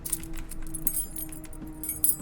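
Keys jangle briefly as a key is picked up in a SpongeBob video game, with light metallic clinks over a low game background hum.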